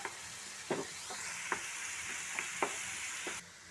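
Ginger-garlic paste frying in a pan for chicken kondattam, a steady soft sizzle broken by several sharp spoon scrapes and taps as it is stirred, close and alone with no talk.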